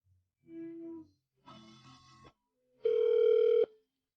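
Electronic telephone ringback tones for a call that goes unanswered: three separate tonal bursts with pauses between them, the last one louder and steadier, and no voices.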